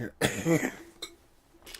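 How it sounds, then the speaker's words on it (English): A couple of harsh, raspy coughs up close, followed by a fainter throat-clearing burst and another short cough, with quiet gaps between. "My cough is so bad in the morning"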